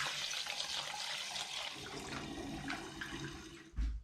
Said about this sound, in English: I'm now going to pour this into the demijohn.